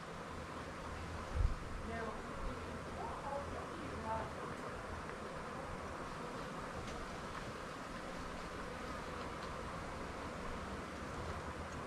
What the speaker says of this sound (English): Leave the hole open for the bees to get in.